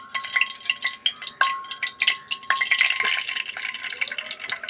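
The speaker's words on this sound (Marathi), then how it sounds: "राई घालते राई आपली तडकायला लागली आहे" Mustard seeds crackle and pop in hot oil for a home-cooked tempering, giving a quick stream of small sizzling pops and sputters close by, with no talking.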